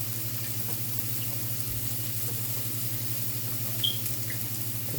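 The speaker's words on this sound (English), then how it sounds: "we're going to continue to brown our sausage" Italian sausage browning in a pot with canned Italian-style garlic spices and olive oil, giving a steady, moderate sizzle with a low hum beneath it and no talking.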